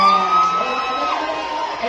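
A Kenyan stadium crowd at a 100 m athletics race roars and cheers for sprinter Ferdinand Omanyala, a sustained swell of voices with whoops rising over it, loud and continuous.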